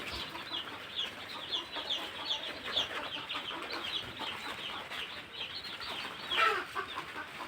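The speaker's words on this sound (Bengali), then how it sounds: "এটা হলো আমার মুরগির ঘর" Hundreds of young layer chicks in a brooding chicken house give faint, continuous high cheeping and peeping, a steady low chorus with one brief louder call near the end.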